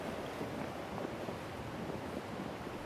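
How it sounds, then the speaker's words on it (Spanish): Stormy ocean surf rolls and breaks along a beach on the Península Mitre coast, a dense, continuous roar with steady wind noise across the microphone. "Al fin el mar había despertado y la tormenta que nos demoró también trajo olas."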